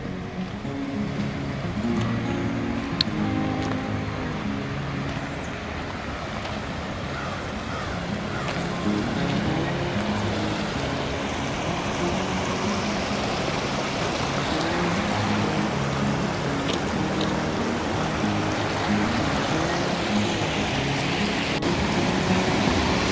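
Water pours over a low water dam on a trail, making a steady, moderately loud rushing wash that continues without a break.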